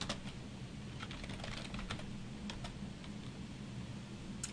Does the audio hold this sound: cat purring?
no